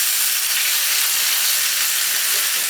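Potatoes sizzle in a pan with a steady, close hiss that holds evenly throughout.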